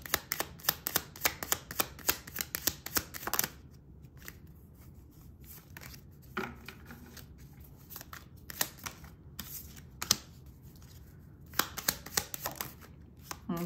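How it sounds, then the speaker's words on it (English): Tarot cards are shuffled continuously, with rapid riffling flutters and slaps that are loud and close, pausing briefly in the middle before resuming. "Oh, these cards are going all over the place."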